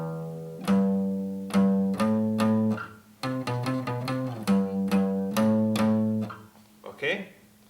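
A riff played on guitar, a heavy sequence of sustained, chugging power-chord notes with short gaps between phrases, loud and close with no talking.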